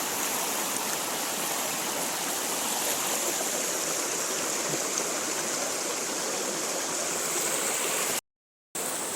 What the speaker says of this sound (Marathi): मोठा वॉटरफॉल आहे